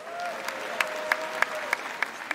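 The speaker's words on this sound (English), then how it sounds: "Can you give yourselves a round of applause?" An audience at a Healing Streams church gathering claps in a round of applause. The claps land as sharp, evenly spaced beats at a steady rhythm, fairly faint over a thin background hum.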